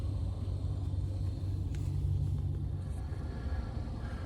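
Steady low rumble from inside a car towing a trailer on a snowy road, a constant engine and road drone with a few faint higher ticks, no speech.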